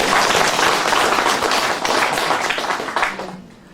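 A studio audience applauds at a live Korean talk broadcast with a book author, a dense and even wash of clapping that fades out near the end.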